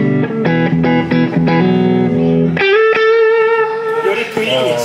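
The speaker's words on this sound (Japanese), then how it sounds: "よりクリーンに近い歪みっていうか、ミットがすごい出るんで" A lightly overdriven electric guitar through a near-clean distortion pedal with strong mids, playing a few picked notes and then a sustained ringing chord, close and loud with no talking.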